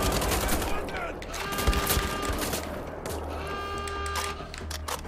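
Gunfire from the video game Wolfenstein The Old Blood on PS4 comes as rapid repeated bursts and shots, layered over sustained in-game tones and effects, loud and continuous across the clip.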